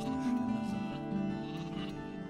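Sheep bleating in Gothic 2 near the harbour, a wavering bleat or two standing out over a steady humming musical backdrop, moderately close, with no speech.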